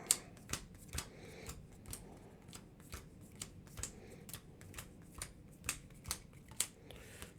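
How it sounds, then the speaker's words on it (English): Game cards being shuffled by hand on a tabletop, a steady series of soft riffling snaps and taps repeating roughly every half second, quiet and close with no talk. "let me shuffle these up again."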